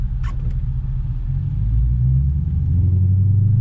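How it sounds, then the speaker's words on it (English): Infiniti Q45 V8 fitted with Nissan Titan headers: deep, loud exhaust rumble close by, rising slightly in a gentle rev and holding steady, with no talk. "You're definitely getting more of that exhaust pulse crossover sound."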